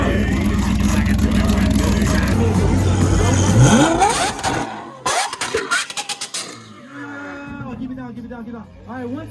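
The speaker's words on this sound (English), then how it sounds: "stop revving your engines!" Supercar engines revving at a car limbo contest, loud snarling blips that climb and cut off, followed by bursts of crowd voices and shouting in an outdoor gathering.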